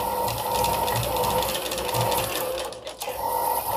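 A tailoring sewing machine stitches steadily and close up, its fast, even needle-and-motor whir running almost without pause, starting with a reverse stitch before sewing forward.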